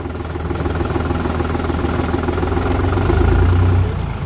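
New Holland T480 S tractor engine running steadily in first gear, a continuous low diesel drone close by that swells slightly toward the end, with no talking.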